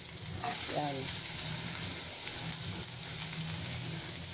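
Onion and garlic sautéing in a wok, a steady bright sizzle and hiss of frying with occasional stirring, with a brief spoken word near the start.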